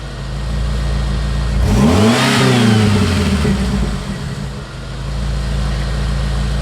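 A Jeep engine idling, then revving to half throttle: a sharp climb in pitch and loudness, a brief hold and a fall back to a steady idle, loud and close with no voices.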